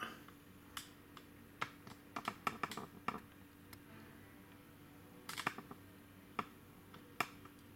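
Scattered keystrokes on a computer keyboard while entering a departure city into a Skyscanner flight search, irregular clicks in short bursts with pauses, faint and close.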